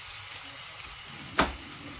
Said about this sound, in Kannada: ಸೊ ಇದನ್ನು ಕೂಡ ನೀಟಾಗಿ ಫ್ರೈ ಮಾಡ್ಕೊಂಡು